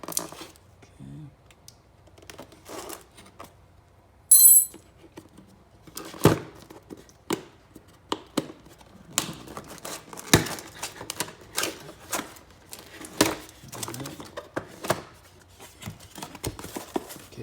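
Unboxing a Grom V-Line 2: packaging ties are snipped and plastic is handled in a quiet run of sharp clicks, snaps and rustles, with one brighter crinkle early on and no talking.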